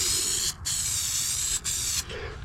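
Spray adhesive hisses from a can in three short bursts with brief gaps as carpet is glued inside a Sprinter van, close and loud, with no voices.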